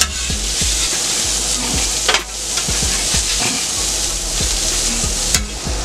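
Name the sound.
potatoes and mushrooms frying in a pan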